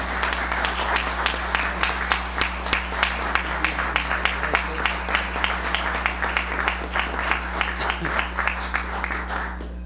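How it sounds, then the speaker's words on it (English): A round of applause rises at a city commission meeting, many hands clapping in a brisk, even patter over a steady electrical hum, fairly distant and lasting about ten seconds before tapering. "please join me in a round of applause for him"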